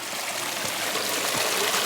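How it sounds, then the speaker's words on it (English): Water runs off a rock into a small garden pond pool, making a steady close trickling and splashing wash that continues unbroken throughout. "We got some water running off this rock"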